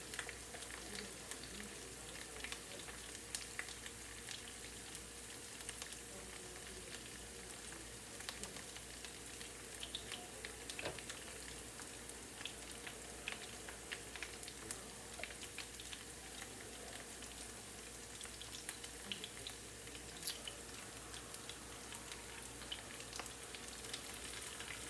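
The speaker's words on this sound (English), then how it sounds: "They're taking a while to get crispy." Homemade tater tots frying in hot oil, a faint, steady crackling sizzle that runs on evenly without pause and with no talking.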